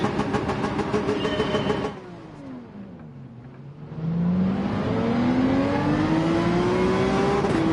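Porsche 911 race car engine in Gran Turismo 7, loud and close, revving high, dropping away during a brief lift around a corner, then climbing steadily in pitch through the gears under acceleration.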